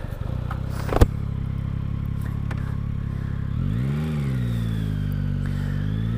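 A Yamaha XSR 900 GP motorcycle engine runs nearby with a steady idle, a sharp clack early on, then the revs rise and fall in a smooth swell before settling back.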